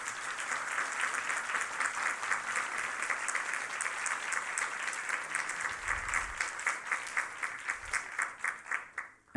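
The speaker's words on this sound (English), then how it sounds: "if you can give one more round of applause to our incredible panelists." An audience's dense, steady applause for a panel discussion, sustained and even, then thinning into individual claps before it stops.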